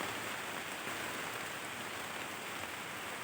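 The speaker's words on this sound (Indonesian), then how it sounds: "Sementara lagi hujan" Steady rain falls outdoors at a site where leaves are being picked, a continuous dense hiss of drops pattering on surfaces, even and unbroken throughout, with no voices.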